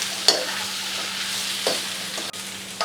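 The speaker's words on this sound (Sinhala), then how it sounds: "ඊට පස්සේ ඒකත් එක මේ විදිහට හොඳින් කලවම් කරගන්න." Chickpeas being stirred in a hot pan, a steady soft sizzle broken by a few sharp scraping clacks of the spoon against the pan.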